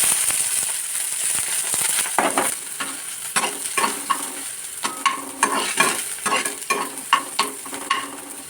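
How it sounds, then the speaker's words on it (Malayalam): Mustard seeds and chopped onion fry in a hot pan, a steady sizzle broken by sharp popping crackles and stirring scrapes that grow denser toward the end. "കടുകിട്ട് സവോള അരിഞ്ഞത് അത് 2 കൂടി ഇട്ട്"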